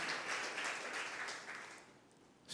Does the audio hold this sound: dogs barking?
no